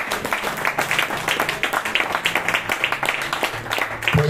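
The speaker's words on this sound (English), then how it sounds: "Clap to Jesus, somebody." Church congregation clapping during a Sunday celebration service, a dense run of many hands with rhythmic bursts and a steady crowd wash, mid-distance and fairly loud, with a faint tonal hum underneath.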